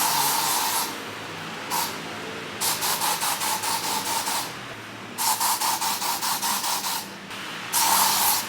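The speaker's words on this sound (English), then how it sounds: "My trusty spray." A cleaning spray bottle used for a final touch during a deep house clean, heard close up as three long, loud hissing bursts with short pauses between them and no talk.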